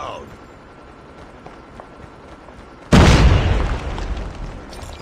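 A loud grenade blast in Call of Duty: Mobile ranked multiplayer bursts in suddenly after quieter game ambience, then a long rumbling decay trails off over the following seconds.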